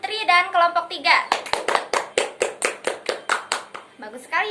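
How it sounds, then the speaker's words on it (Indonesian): Classroom applause for a student group: after a brief voice, children clap in an even, rhythmic beat of about a dozen sharp claps, close and clear, before talking resumes. "Tepuk tangan untuk Putri dan kelompok 3."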